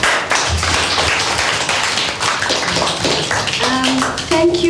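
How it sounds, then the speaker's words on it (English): An audience claps to welcome a guest speaker, a loose run of hand claps and taps with some talking mixed in, fairly close and steady before a voice and tones near the end. "Can you clap for her?"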